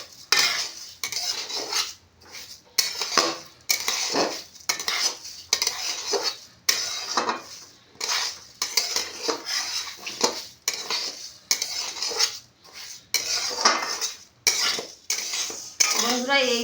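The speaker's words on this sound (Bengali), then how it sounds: "আমি দুবার ধরে এই চালগুলো ভালো করে ভেজে নেব" Rice dry-roasting in a pan for sweet rice balls, stirred constantly with a metal spoon, giving loud rhythmic scraping and clinking strokes over a faint sizzle, close up and without speech.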